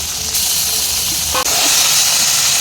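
Fish rubbed with salt and turmeric fry in mustard oil in a kadai with a loud, continuous close hiss that barely changes, with only a brief dip partway through.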